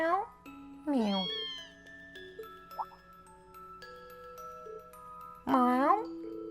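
Kitten meowing in the role-playing game Trails of Cold Steel, several clear, close meows at the start, around the one-second mark and again near the end, over quiet game music.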